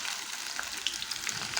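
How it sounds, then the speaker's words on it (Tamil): Cut okra fries in hot oil in a pan, a steady close sizzle with small crackles and pops, no voices. "எண்ணெய் காய்ச்சதும் நம்ம கட் பண்ணி வச்சுருக்கிற வெண்டைக்காவை இந்த எண்ணெயில் போட்டு பொரிச்சு எடுத்துக்கலாம்."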